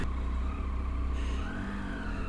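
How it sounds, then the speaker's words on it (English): A motorcycle engine drones steadily while riding on a road trip, heard from the rider's position inside a helmet, with a low rumble that shifts pitch partway through as the revs change, plus wind noise. "I can hear my engine sound like properly today"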